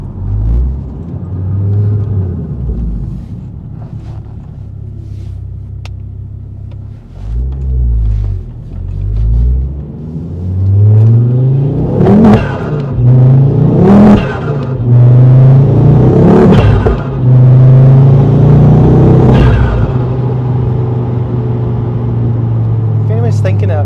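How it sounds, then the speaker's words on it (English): A Ford Focus RS Mark II five-cylinder engine revs loud and close, with repeated throttle blips climbing and falling, then a sustained deep rumble building toward the end. "That 5-cylinder sound is just so addictive."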